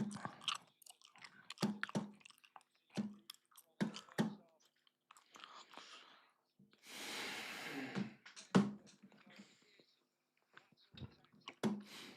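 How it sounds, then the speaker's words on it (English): Gum being chewed close to a microphone, with irregular wet smacking and clicking bursts scattered over several seconds and a brief rustle partway through. "Stop that chewing gum."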